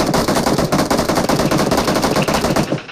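Rapid automatic gunfire from the mobile battle royale game PUBG Mobile, loud and continuous, with dense rattling bursts filling the whole stretch and no talking over it.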